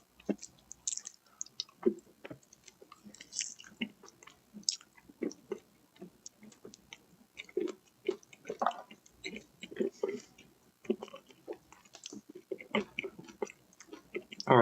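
Someone eating food on a live broadcast, with close, wet chewing and smacking bites in an irregular rhythm that keeps going throughout, fairly quiet and with no clear speech.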